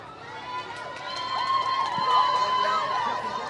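High school cheerleaders cheer at a football game, their high voices rising over a busy crowd din, with brief chatter mixed in.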